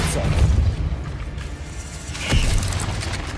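Depulso force-push spell cast in Hogwarts Legacy, a short booming whoosh burst with a mechanical clatter, followed by a second thump partway through over game background.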